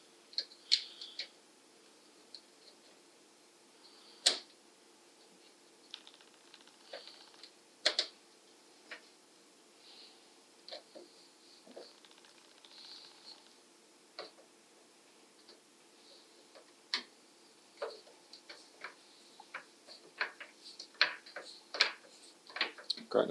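Small screw being driven in to mount a fan inside a PC case, heard as faint scattered ticks and sharp clicks spread irregularly over a quiet background.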